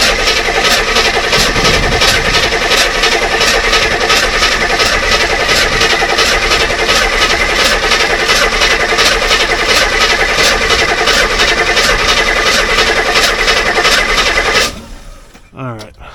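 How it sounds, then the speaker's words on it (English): A C4 Corvette engine idles steadily, a loud, even mechanical drone that runs nearly unbroken for about fifteen seconds before cutting off abruptly, followed by brief handling noise. "This side of an engine's noisy, isn't it?"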